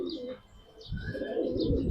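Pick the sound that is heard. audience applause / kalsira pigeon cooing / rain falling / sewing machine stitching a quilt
kalsira pigeon cooing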